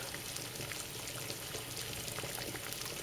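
Water rolling at a steady boil in a pot during an automotive thermostat test, a constant bubbling churn at moderate level with no voices.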